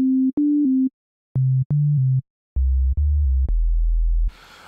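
A synthesized 808 trap bass line drops by octaves across three groups of short sustained tones, each group lower than the last, ending in a deep rumbling note, clean and loud with no voices.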